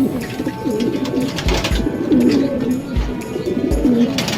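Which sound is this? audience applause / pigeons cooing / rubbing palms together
pigeons cooing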